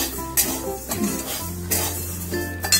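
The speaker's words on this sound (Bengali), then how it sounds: "ডালটা ভাজার সময় কন্টিনিউয়াস এরকম নাড়িয়ে যাবে" Mung lentils stirred in a pan with a light sizzle, a spoon scraping and clinking against the metal in short strokes, close by.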